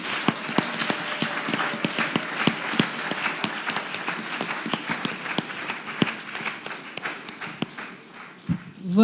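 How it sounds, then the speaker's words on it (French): A live audience at a magazine show in Brazzaville claps in a steady patter of individual hand claps, moderately close and tapering toward the end. "On applaudit."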